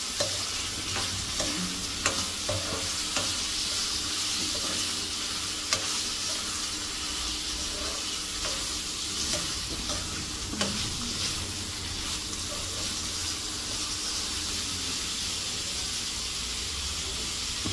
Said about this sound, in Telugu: కడిగి కట్ చేసి వాష్ చేసి పెట్టుకున్న కాకరకాయ అయితే వేసేసుకుంటున్నాం.